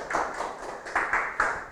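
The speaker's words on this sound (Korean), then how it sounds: "박수를 치시나요?" A short burst of clapping from a small group at a seminar presentation, a few uneven claps rising toward the end.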